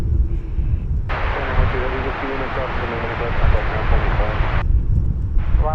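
A Boeing 747 jet airliner at DFW Airport gives a steady, loud engine roar with a broad rushing rumble, heard under radio chatter and nearby talk.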